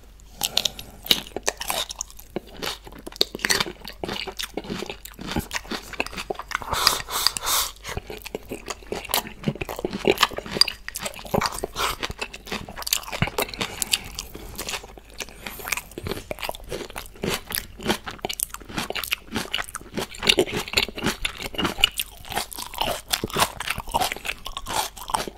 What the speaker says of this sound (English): Eating kimchi.